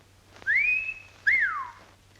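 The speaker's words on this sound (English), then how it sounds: "the emission of a whistling sound, vulgarly known as the call of the wolf, perpetrated by puckering the lips and expelling the sound thusly" Two clear wolf whistles made with puckered lips, a rising-then-held tone followed by a swooping rise-and-fall, loud and close with no talk over them, in a 1941 comedy setting.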